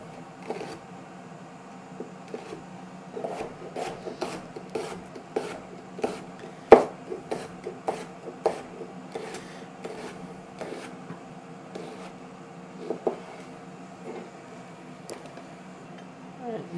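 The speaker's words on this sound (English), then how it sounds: "So I'm just cutting them into strips." A knife chops steadily on a cutting board, slicing a yellow and a red bell pepper into strips with a quick regular rhythm of sharp close taps over low background hum.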